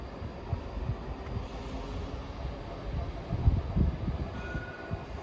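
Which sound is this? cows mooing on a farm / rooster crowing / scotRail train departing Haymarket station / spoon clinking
scotRail train departing Haymarket station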